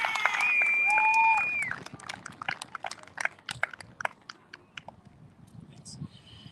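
An outdoor rally crowd at a Freedom Unity Train event in Regina cheers, with a couple of sharp whistles over loud applause, which then thins into scattered, fading claps.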